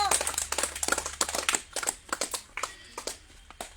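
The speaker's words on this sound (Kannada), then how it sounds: "ಚಪ್ಪಾಳೆ ತಟ್ಟುವ ಮೂಲಕ ಅವರನ್ನು ಸ್ವಾಗತಿಸೋಣ" Scattered hand claps from a small audience welcoming a star kabaddi player, irregular and fairly close, with a voice speaking over them.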